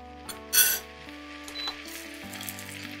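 Cashew nuts frying in oil in a pan, a soft steady sizzle with a sharp burst as they hit the oil and a light clink of utensils, no voices.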